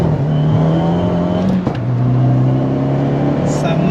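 A tuned Abarth with a Stage 3+ upgrade drones loudly as it accelerates, the engine note holding steady and then shifting pitch partway through, heard close from inside the car.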